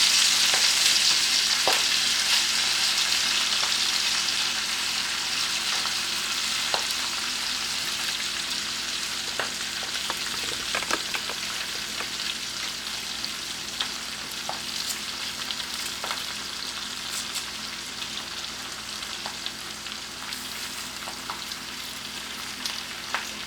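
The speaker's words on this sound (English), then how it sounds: "tear it in pieces and just put it in my skillet of hot butter" Torn kale pieces fry in a skillet of hot butter, giving a loud, continuous hiss that fades a little over time, dotted with faint pops and occasional light clicks.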